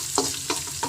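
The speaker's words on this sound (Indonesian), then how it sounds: "goreng-goreng, tumis-tumis" Chopped garlic is stir-fried in a pan, with a continuous sizzle and three spatula scrapes spaced about a third of a second apart, close and fairly loud.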